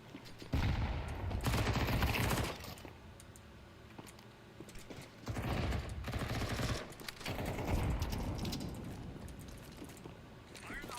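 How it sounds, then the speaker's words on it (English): Grenades and flashbangs go off in Counter-Strike 2 as several loud, broad bursts separated by quieter stretches, with crackling gunfire and keyboard clicks in between. "Deploying flashbang. Throwing grenade."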